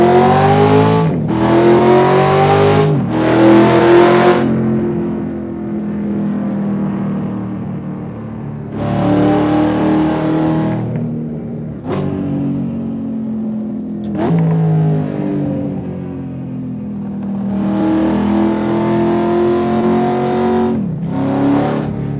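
A 1971 Dodge Demon with a 340 twin four-barrel engine drives at moderate pace, its loud V8 note rising and falling through several gear pulls and revs, up close, with no talk.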